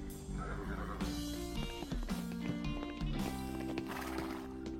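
A horse in a cartoon stable gives a loud, drawn-out neigh over music, with clip-clop hoofbeats and a second whinny following close by.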